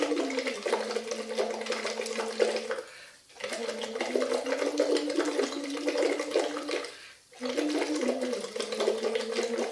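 Air is blown steadily through a straw into water, making a continuous bubbling and gurgling that stops for a moment twice, loud and close, with a hummed voicing running through it.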